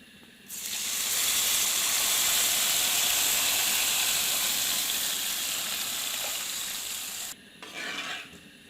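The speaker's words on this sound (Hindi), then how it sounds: "दूध में बॉयल आ चुका है।" Milk boiling in a pot with wheat porridge fried in desi ghee for Gujarati halwa gives a steady, loud, bubbling hiss for about seven seconds, then cuts off, leaving brief softer bubbling at the end.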